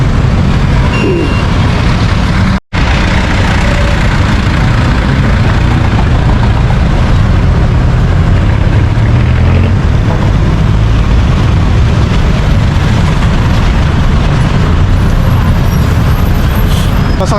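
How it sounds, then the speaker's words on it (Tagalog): A jeepney engine rumbles steadily in busy Quezon City traffic around five in the evening, a continuous low drone mixed with surrounding vehicles and bus noise, briefly cut by a short dropout early on, with faint voices in the background. "Pasakay tayo ng pambansang sasakyan ng Pinas,"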